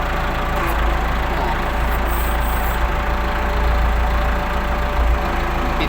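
Case 695 tractor engine idling steadily with a constant low rumble and slight knocking texture, loud and close, continuous throughout without speech.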